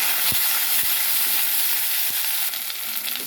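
Washed mutton hits a hot pan with ginger garlic paste and turmeric, setting off a loud, constant sizzle and hiss close up, with a few soft knocks from the spoon.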